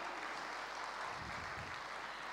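Audience applause at a musical evening at Gyan Sarovar, Mount Abu: a short, faint burst of scattered clapping heard from a distance.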